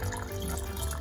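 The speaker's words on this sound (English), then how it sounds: "Now we just want to refill this pot with some tap water," Tap water runs into a pot for making Turkish tea, a soft steady trickle heard close and quiet for about a second.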